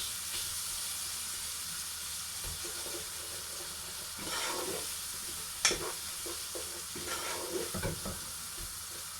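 Tomato puree cooking out in a pan for a courgette Indian curry, giving a steady close sizzle with scraping stirs and a few sharper clinks, no voices.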